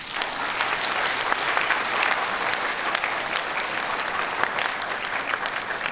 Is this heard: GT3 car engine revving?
no